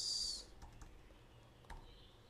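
A computer keyboard being typed on, a few soft scattered keystrokes at close range after a brief electronic tone at the start, quiet and without talk.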